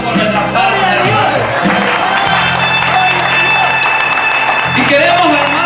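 A church congregation claps in praise during a gathering of pastors, a loud, continuous mass of hand clapping and cheering with music and voices mixed in throughout.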